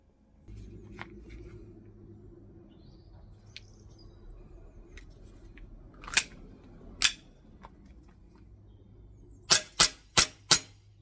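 VFC Stark Arms P320 airsoft pistol firing on an outdoor range: two separate sharp shots, then a quick string of four, each a crisp loud crack over quiet background.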